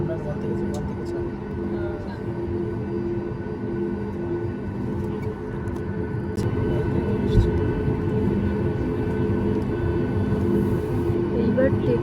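An airliner taxiing at an airport toward the runway before takeoff, heard from inside the cabin as a steady low engine drone and rumble that grows slightly louder midway, with faint voices underneath.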